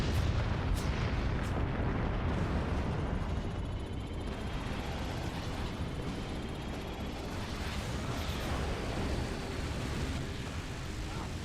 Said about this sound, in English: Secondary explosions, and he's gone.